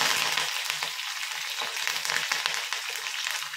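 Food frying in a pan for a cluster bean stir-fry, a continuous close crackling sizzle with small irregular pops throughout and no voices.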